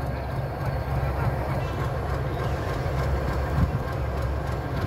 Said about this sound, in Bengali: Parbatipur railway junction.